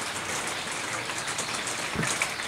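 Rain pours steadily onto an attic rooftop garden of cacti, a dense, even hiss of drops patters throughout with a slightly louder splash near the end.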